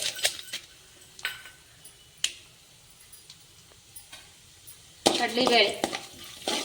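Cumin, mustard seeds, urad dal and chana dal fry in hot oil while being stirred, with soft clicks and crackles of the seeds, then a louder burst of sizzling and scraping near the end.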